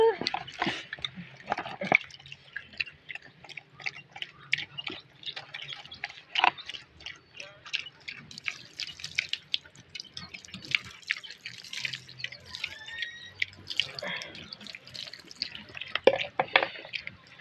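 Water drips steadily into a container outdoors, a long series of sharp, irregular plinks and splashes at close range, with faint voices and background noise underneath.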